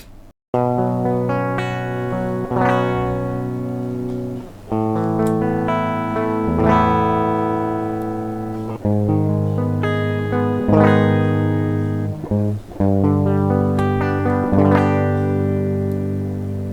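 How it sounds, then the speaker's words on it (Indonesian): A Fender Studio Pro electric guitar plays a series of ringing chords and notes with effects, each phrase sustaining and decaying before the next strum, with no talking. "Coba kalian dengar ini gitarnya."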